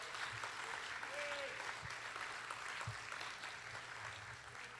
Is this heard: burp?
no